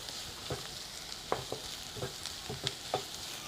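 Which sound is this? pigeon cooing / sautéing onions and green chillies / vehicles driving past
sautéing onions and green chillies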